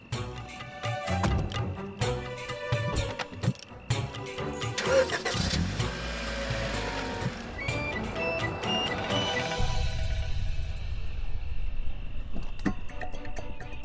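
A repaired car's engine cranks and catches, then settles into a steady idle with a rising whine, recorded nearby in a workshop setting with insect-like chirping in the background and no talk.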